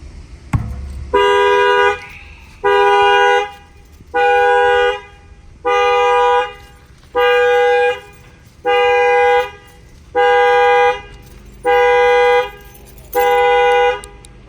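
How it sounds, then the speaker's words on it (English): A 2019 Honda Accord's horn honks in a steady repeating pattern, nine long blasts at even intervals, loud and close, as an add-on to the factory car alarm sounds. "The alarm fires off."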